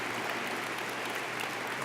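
Audience applause for Carolina Morgado, longtime head of the Chilean team, comes as a steady, faint wash of many hands clapping without pause for the full two seconds.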